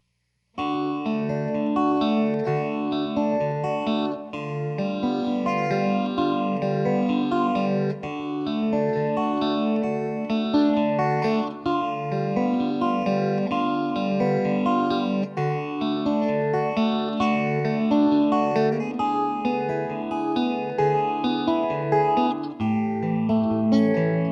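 Electric guitar with a shimmering chorus effect plays arpeggiated chords continuously, loud and close, with a wavering, swirling tone.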